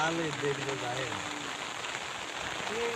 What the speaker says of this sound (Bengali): ও বৃষ্টি আছে